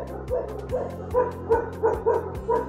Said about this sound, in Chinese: 哇，那边的狗叫得很疯狂。